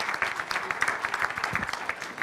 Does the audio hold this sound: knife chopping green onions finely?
no